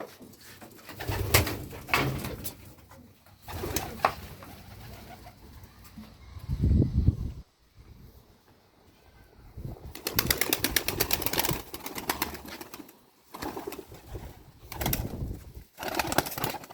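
Homing and tumbler pigeons coo steadily close by in a coop, with rustling and occasional wing flaps mixed into a busy, uneven background.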